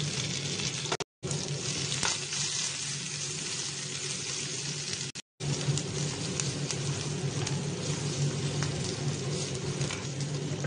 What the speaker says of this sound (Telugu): పచ్చిమిరపకాయలు మొత్తం అన్నీ వేసుకొని వేయించుకోవాలి